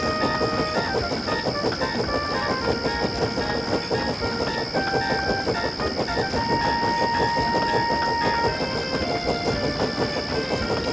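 A steam engine train puffs steadily along in a cartoon sound effect, with rhythmic chuffing and rail clatter under a constant hiss and some musical tones, loud and continuous throughout.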